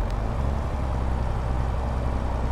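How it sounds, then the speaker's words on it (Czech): Steady road traffic of trucks and cars in Farming Simulator 22 near a large sugar factory, a continuous low engine rumble that stays even and fairly loud throughout, with no talking. "Páni, to je provoz tady."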